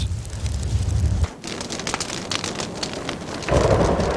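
Heavy rain pours steadily during a thunderstorm, with rolling thunder rumbling low beneath the downpour; the rumble drops away briefly, then returns louder near the end.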